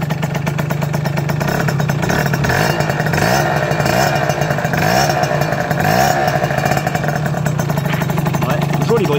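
A 2008 MBK Booster Rocket scooter with an SCR Corse exhaust runs and revs close by, its buzzing two-stroke engine rising and falling in rough, raspy surges throughout.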